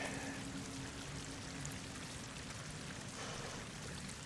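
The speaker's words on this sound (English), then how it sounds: "Water's coming in." Water pouring in continuously inside an enclosed chamber in Horizon Forbidden West, a dense steady rushing flow that stays loud and unbroken from start to finish, with no voices.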